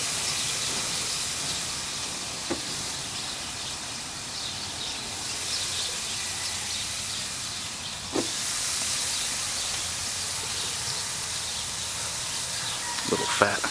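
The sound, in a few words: beef sirloin steak sizzling on a grill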